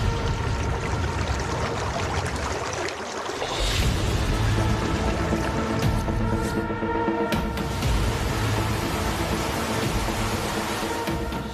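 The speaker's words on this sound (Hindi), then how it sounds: "आवाज से लग रहा था जरूर कोई बड़ा झरना आसपास ही है।" A large waterfall close by on a climb toward high ground, its steady rushing roar of pouring water filling the air continuously at full strength, with no voices.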